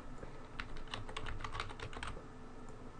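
Rapid keystrokes on a computer keyboard as a search term is entered, a quick irregular run of light clicks over faint background hiss, close and fairly quiet.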